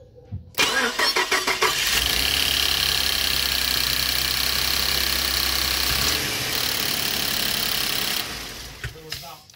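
A Ford F-150 engine cranks a few quick turns and fires after a high-pressure fuel pump replacement, then settles into a loud, steady idle close by before cutting off.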